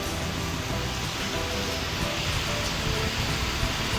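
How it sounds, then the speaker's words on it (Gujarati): A steady downpour of heavy monsoon rain gives a continuous broadband wash of falling water, uniform and fairly close, with no speech over it. "વરસાદ જોરદાર ચાલુ છે અત્યારે."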